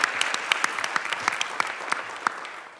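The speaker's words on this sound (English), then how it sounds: "If we could actually have one more round of applause for Kenby, Jen Kamensky, Alicia" Applause from an audience at a Radcliffe Institute event celebrating the legacy of June Jordan: dense, steady clapping from many hands, fairly close and loud, with no voices over it.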